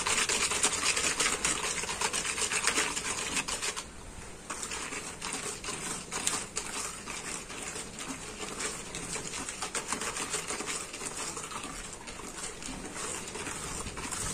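Butter cookie dough beaten by hand in a bowl to dissolve the sugar, giving a steady, close, rapid scraping and slapping rhythm that runs continuously with a brief pause, no voices.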